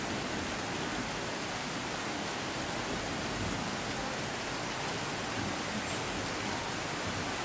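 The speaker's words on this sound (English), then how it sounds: "it's just been raining and raining and raining" Heavy rain pouring down steadily during a flood after dams were released upstream, a dense unbroken hiss with no voices, constant and close.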